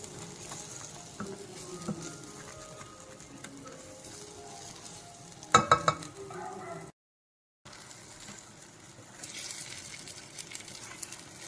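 Masala with cashews and onion frying in oil on a low flame, a steady soft sizzle and patter running throughout, with a brief louder clatter of stirring near the middle and a short gap of silence.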